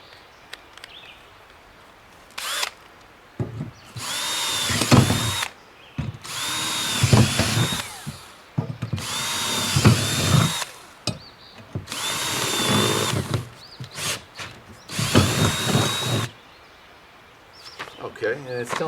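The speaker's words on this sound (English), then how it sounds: "Now I'm going to take the supply drill bit, which is right here, hook it up to my drill" Cordless power drill boring new holes with its supplied bit for a Brinly 180 Over and Out upgrade, five or six loud whirring bursts a second or two long, with short pauses and a few quick blips between them.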